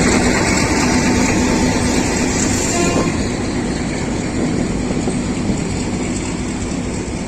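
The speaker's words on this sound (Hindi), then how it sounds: "हसन अब्दाल से रवानगी 13 अवाम एक्सप्रेस PH" An Awam Express train with its locomotive departs Hasan Abdal station in Pakistan: a loud, steady rumble of engine and rolling wagons with a continuous hum, close and unbroken throughout.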